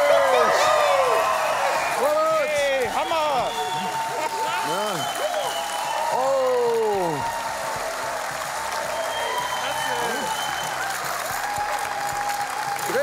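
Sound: crowd cheering and applause at Cyr wheel competition

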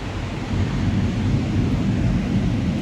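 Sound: thunder from a returning storm

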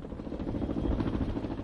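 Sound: helicopter hovering during a military demonstration

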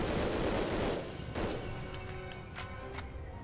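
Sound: machine gun fire in the video game Medal of Honor: Underground

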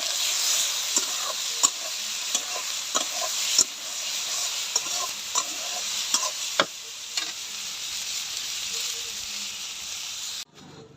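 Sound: soya chunks frying in oil

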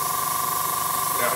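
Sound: airbrush spraying paint

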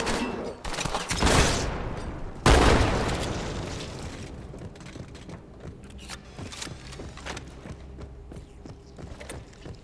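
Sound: dual-wielded SMG gunfire in Halo 2 video game

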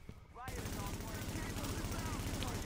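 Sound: gunfire from a gun in the video game The Division

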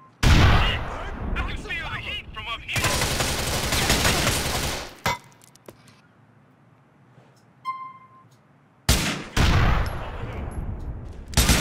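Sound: grenade explosion in video game Grand Theft Auto 4

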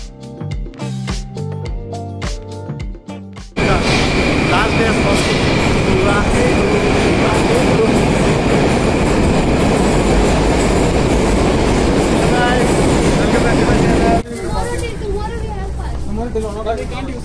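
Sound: Moscow metro train riding

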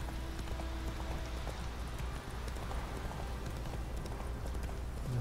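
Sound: horse galloping in the video game Witcher 3

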